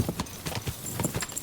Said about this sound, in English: And onwards with my super souped up new horse to the nomad's camp.